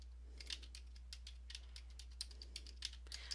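Light clicks of typing on a computer keyboard come in an irregular run of quiet taps, faint and close, with a steady low hum underneath and no voices.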